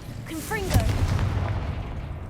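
Confringo fire spell blast in the Hogwarts Legacy video game, a sharp burst and rumbling boom rolling on for about two seconds in a hollow old stairwell, fairly loud with a brief voice just before it.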